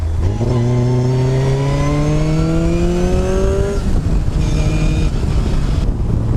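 A Striker Aero 241S sports car with a supercharged 20-valve Toyota engine accelerates hard up through the revs, its loud rising engine note shifting gear once and climbing again close by.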